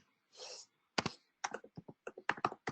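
Quiet, close keystrokes on a computer keyboard, a brief soft rustle followed by a quick irregular run of crisp clicking taps.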